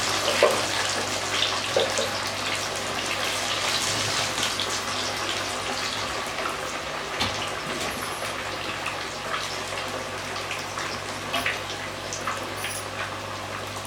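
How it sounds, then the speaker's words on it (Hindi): A piece of rohu fish fries in garlic oil in a small kadhai, producing a steady, dense sizzle and crackle close up, fairly loud and continuous throughout. "तो अब मैं इसमें मछली का एक टुकड़ा डालूँगी।"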